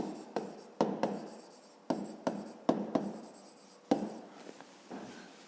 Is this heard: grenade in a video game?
no